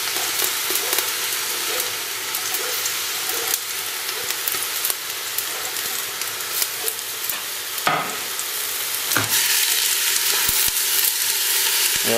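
Aubergine, red pepper and courgette for ratatouille fry in a pan with a constant close sizzling hiss, broken by a few sharp stirring knocks and scrapes near the end.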